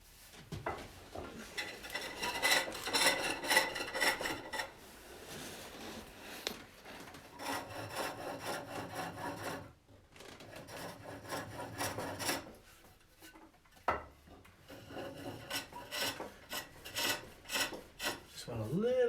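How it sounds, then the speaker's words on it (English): Steel hook tool held on a spring pole lathe being sharpened and deburred, a close, loud rasping file stroke repeated in steady bursts with brief pauses between passes. "always sharpen with your hook on your lathe so that it's stable."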